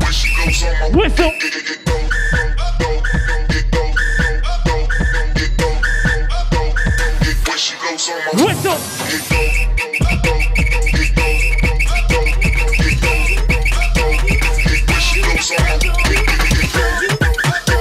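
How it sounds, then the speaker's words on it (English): Whistle blasts ring out over pounding electronic dance music in a live DJ set, repeating through the loud, steady beat. "Whistle!"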